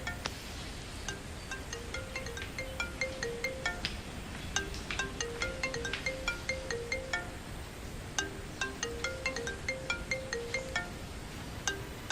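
A mobile phone rings with a repeating electronic melody of bright tones in a steady looping pattern, fairly faint and heard alone in a quiet room.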